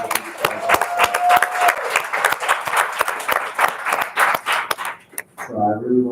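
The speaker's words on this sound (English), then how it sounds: "I also do want us to give a huge round of applause to Ms. Ursula as well" Panel discussion audience gives a round of applause, distinct claps rising and scattering over a few seconds before fading out, with a voice briefly heard near the end.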